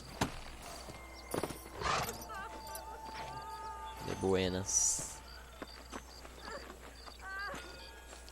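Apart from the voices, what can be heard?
horse hooves and whinny in video game Red Dead Redemption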